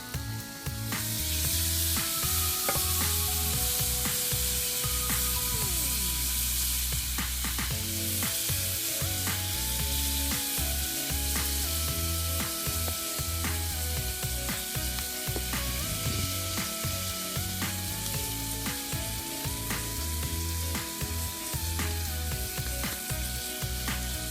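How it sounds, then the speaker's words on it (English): Ostrich fillet steaks with marinade spooned over them sizzle steadily in a cast iron pan, a loud close continuous frying hiss with faint clinks and crackles, no voices. "We're not going to waste this marinade, so we're just going to put a bit over the top."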